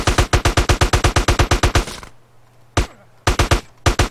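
Rapid bursts of automatic gunfire in GTA San Andreas, a long evenly paced volley followed by a pause and a few shorter clusters of shots, loud and close.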